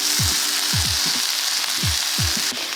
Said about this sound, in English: So now I'm going to add the Muchroom and fresh chili.